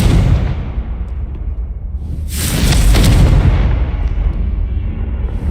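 A Confringo spell explodes in Hogwarts Legacy: one loud, close blast bursts out of a low rumbling background, then trails off into a lingering rumble.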